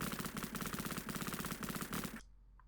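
Continuous rapid gunfire from the Sega Mega Drive game Cannon Fodder, a loud, fast, even rattle of retro shots that cuts off abruptly near the end, leaving near silence.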